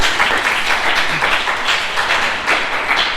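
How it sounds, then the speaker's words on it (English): A Toastmasters club meeting audience gives a speaker a round of applause, a continuous close wash of clapping from a modest crowd with no voices over it. "So please give him a round of applause."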